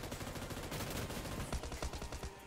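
Automatic gunfire in the mobile battle royale game PUBG New State during a squad fight, rapid dense bursts of shots filling the whole stretch, loud and close with heavier thumps near the end.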